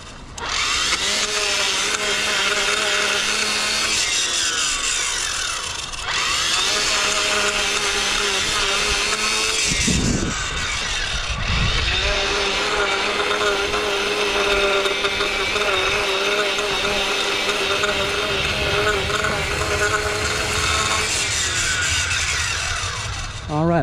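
A lawn edger cutting along a lawn edge runs loud and steady, its whining motor dipping briefly midway before resuming at full power.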